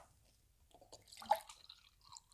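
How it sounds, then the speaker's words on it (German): Drinking water is poured into a glass indoors, a faint, brief trickle and splash with a few light clinks, quiet and close with no talking. "Und ich muss mir jetzt mal was Neues zu trinken eingießen."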